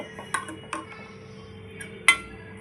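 Oil and ghee added into the cups of an appe pan, heard as a few sparse, close metallic clinks and taps of utensil on pan, separated by quiet pauses, with no talking.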